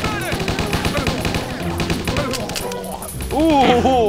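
Video game gunfire rattles in rapid bursts through the first half, mixed with other in-game effects, followed by a louder warbling tone at the end.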